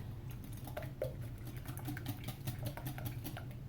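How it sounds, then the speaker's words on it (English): Eggs seasoned with fresh cracked pepper are whisked in a bowl, producing a quick, steady run of light clicking and tapping close by, without talk. "We'll whisk that in."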